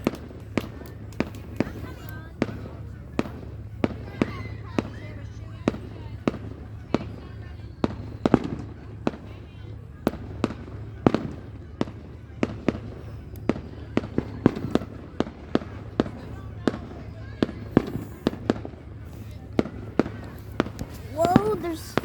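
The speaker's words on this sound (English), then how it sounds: "there's fireworks behind us, they're big" Big fireworks bursting outdoors, a long run of sharp booms and crackles at irregular intervals, some loud and close, others fainter, with children talking and shouting over them.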